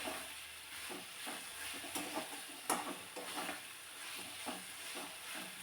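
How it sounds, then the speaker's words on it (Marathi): Onion and tomato sautéing in a little oil in a pan for a sprouted moth bean curry, a soft steady sizzle broken by repeated scraping stir strokes and a few sharper clacks of the spoon, fairly quiet and close. "साईडने छान असं टोमॅटोसुद्धा परतून घ्यायचं आहे यामध्ये कांदा टोमॅटो अगदी व्यवस्थित चांगलं जर परतून घेतलं"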